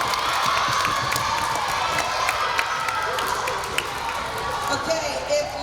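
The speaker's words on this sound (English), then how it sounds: "Give them another big round of applause." An audience at an elementary school awards ceremony claps and cheers, with a steady wash of applause and scattered shouts and children's voices filling the room.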